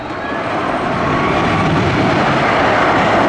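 A funfair roller coaster train brakes and slows along its track, a loud continuous rumbling roar that builds slightly and holds steady, with no voices over it.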